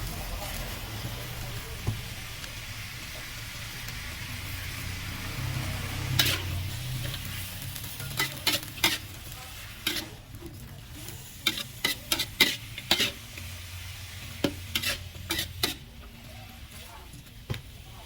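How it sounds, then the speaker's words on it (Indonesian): Water spinach (kangkung) stir-fried with garlic in a hot smoking pan, a low steady sizzle under a run of clattering spatula scrapes and taps that bunch together toward the end. "Mari kita tuangkan kangkungnya, asapnya mendebul. Diaduk sampai kangkungnya sedikit layu."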